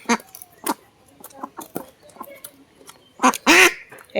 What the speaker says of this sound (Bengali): এই দেখো হাঁস মুরগি বিক্রি করতেছে